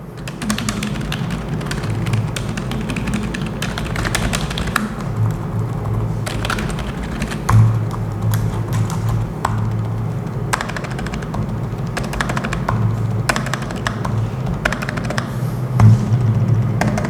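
Fast typing on a Fantech WK893 computer keyboard, dense rapid clicky keystrokes in a continuous stream over a low steady hum, close and fairly loud, with occasional heavier thocks.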